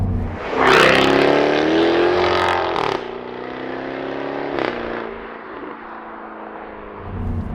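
Supercharged V8 of a 2022 Jaguar F-Type R revving hard and accelerating, a loud rising engine roar that drops after a gear change and keeps pulling steadily, heard from inside the car.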